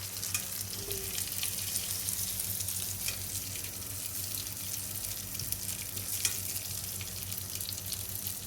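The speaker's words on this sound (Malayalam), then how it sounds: "ഇതുപോലെ കുറച്ച് ചിക്കനും കൂടെ ബാക്കിയുണ്ട്, അതും കൂടെ ഫ്രൈ ചെയ്ത് എടുക്കാം" Chicken pieces frying in a pan give off a dense, steady sizzle, close and constant, with faint clinks and a low background hum throughout.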